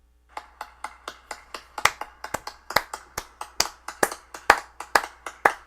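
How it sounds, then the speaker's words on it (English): A single person clapping hands in a steady, even rhythm, about twenty sharp claps close to the listener with no other sound around them. "Clap."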